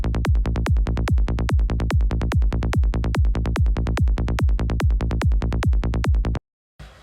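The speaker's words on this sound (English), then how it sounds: "So this is our normal bass line" A fast, driving psytrance synth bass pulses in a steady straight rolling pattern with a thumping kick, loud and unbroken for over six seconds before cutting off abruptly.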